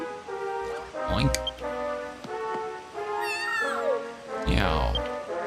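A cat meows in the Dragon Quest Treasures video game, a clear close call over the game's tonal background music and effects.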